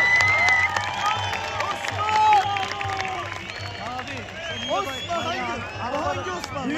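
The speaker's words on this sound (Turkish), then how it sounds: "Alkışlarınızla Osman Çelik!" A crowd at a football league championship celebration claps and cheers, with shouts and whistles rising over the applause and voices calling out throughout.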